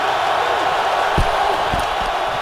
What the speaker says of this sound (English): Here comes the crowd noise